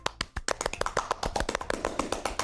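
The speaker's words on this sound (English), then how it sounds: "The four of us applaud." Applause sound effect in the video game Doki Doki Literature Club: a dense, steady run of overlapping hand claps from a small group of four, sharp and close, lasting a couple of seconds without voices.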